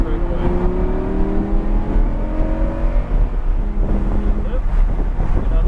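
A Lamborghini accelerates down the straightaway at Texas Motor Speedway in Fort Worth, its engine note rising steadily through the gears from inside the car, with wind buffeting and a voice talking over it.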